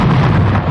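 German bombs bursting around Allied troop ships, a single short, heavy, booming blast that fills the moment with deep rumble, loud and close, with no voices.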